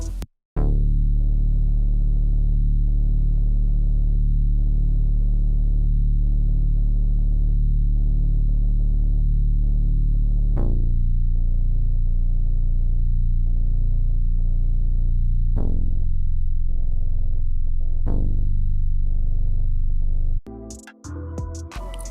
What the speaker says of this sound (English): And I laid on this, which is basically the bass notes of the chords.